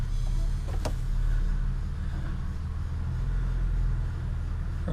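A 2005 car with a GM 4T65-E automatic transmission runs in gear on jack stands, its wheels turning under a steady low engine and drivetrain rumble with a single brief tick near the start.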